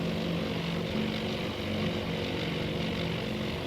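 Propeller bomber aircraft engines in the naval combat game Task Force Admiral, set at the Battle of Midway: a steady, loud droning roar with a low throbbing hum that holds unbroken throughout.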